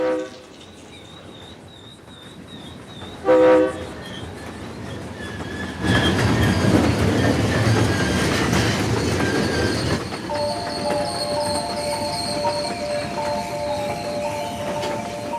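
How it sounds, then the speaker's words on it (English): A train horn sounds in short blasts, then a passing train rumbles loudly with clattering wheels and sustained horn tones over steady rolling noise. "the noise of the train's horn unsettles them"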